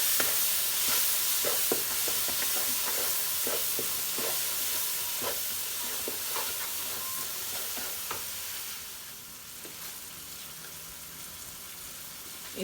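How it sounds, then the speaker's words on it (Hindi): Biryani chicken is mixed with chaat masala in a bowl, with repeated wet squelching and stirring strokes over a hissy background that quiets toward the end. "अब हम इनको अच्छे से मिक्स करेंगे।"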